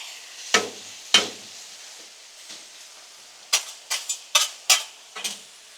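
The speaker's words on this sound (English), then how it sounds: "So let's get all this cut up, moved around, stirred up." Carne asada and rice worked on a Blackstone griddle, with metal spatulas or a scraper scraping and clacking against the flat-top in sharp, separate strikes, two early and then a quicker cluster of five or six close hits.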